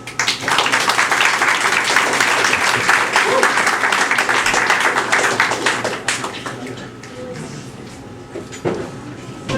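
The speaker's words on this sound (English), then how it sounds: "Another round of applause for Dr. Darrell." An audience at a Louisiana poetry reading breaks into applause that stays full and dense for about six seconds, then thins into scattered claps and room noise before a few final claps.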